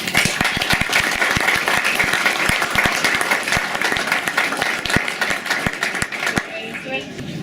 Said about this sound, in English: if we could give them all a big round of applause